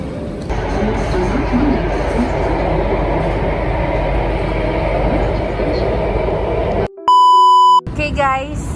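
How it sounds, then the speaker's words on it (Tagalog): An MRT metro train in Singapore rumbles along with a loud, steady rolling roar inside the carriage, broken by a brief pure-toned electronic chime sequence before the running noise returns. "First time nilang mag MRT sa life."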